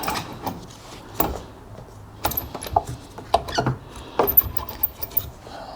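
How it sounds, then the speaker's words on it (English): Seized motor from an Electrolux Zanussi dryer turned by hand, giving irregular scraping, grinding and clicking bursts with short pauses between, close up and fairly quiet. "I'm not really able to turn it properly. can hear that it's a bit seized in there"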